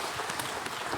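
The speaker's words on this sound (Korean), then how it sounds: "박수로 하나님께 드리겠습니다." A church congregation applauds during a Sunday worship service, a steady dense wash of clapping that fills the whole short moment without a break.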